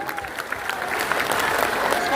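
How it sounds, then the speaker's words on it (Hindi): Applause from an audience at a Lok Janshakti Party workers' honour ceremony in a memorial hall in Patna, a dense sustained burst of many hands clapping that swells and stays loud, with crowd noise mixed in. "एक बार जोरदार ताली।"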